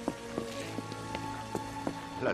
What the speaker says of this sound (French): La tempête a vidé les rues de ces canailles.